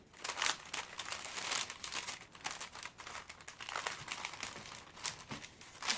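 Wrapping paper crinkles and crumples while it is folded around a partly flat, partly box-shaped item, in close, soft bursts of rustling that continue throughout.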